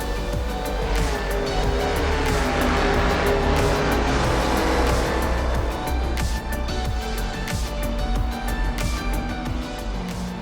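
A racing video game car laps the Race City circuit, its engine droning steadily and loudly with shifting revs and continuous tire and road roar, with no talking.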